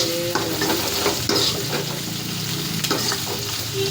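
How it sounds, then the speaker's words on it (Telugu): Chopped onions fry in hot oil in a pan for a dry fish curry, a loud close sizzle with repeated scraping stirs and clinks of the spoon against the pan, no voices. "ఎర్రగడ్డలు అయితే వేస్తున్నాము. వేసి ఇలా ఆయిల్లో బాగా"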